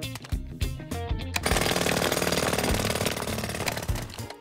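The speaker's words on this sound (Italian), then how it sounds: "Ricordi cosa ho detto sull'uso del martello pneumatico?" A cartoon jackhammer breaks up a road in a loud, steady, rapid hammering that runs on without pause after a few shorter opening bursts; nobody speaks.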